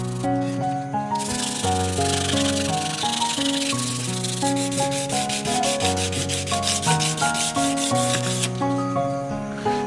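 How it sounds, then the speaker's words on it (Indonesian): Front and back panel boards are sanded by hand in a steady rhythmic rasp, close and continuous over music playing throughout. "bersihkan dan amplas terlebih dahulu papan panel depan dan belakang"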